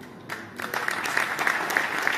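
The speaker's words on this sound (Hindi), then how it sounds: "अभी मत बजाओ तालियां" Dense applause from an audience at a Hindi patriotic poetry recital featuring poet Hari Om Pawar, starting quietly and swelling within half a second into steady, moderately loud clapping that keeps going to the end.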